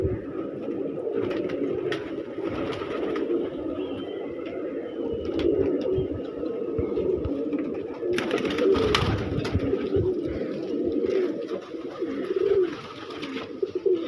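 A flock of pigeons flies overhead outdoors, with a steady wash of bird sound and a louder flurry about two-thirds of the way through.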